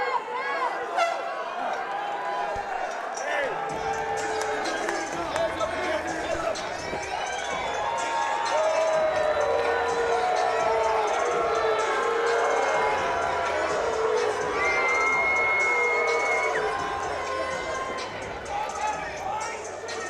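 Fight crowd at a combat sports event booing a decision, a sustained roar of jeers and whistles filling the arena while a commentator talks over it.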